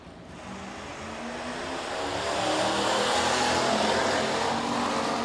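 Hobby stock race cars at Rapid Speedway, engines droning and building from far to nearer as the pack runs down the backstretch, a loud continuous roar with no voices.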